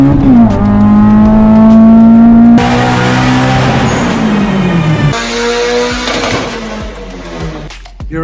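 Turbocharged Honda EG car engine at its first start-up, a loud close revving note rising and falling in pitch through several throttle blips, with a bright whine and changing tone as it idles and revs.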